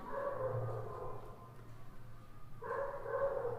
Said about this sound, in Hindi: वो बाहर कुत्ता भौंक रहा है ना,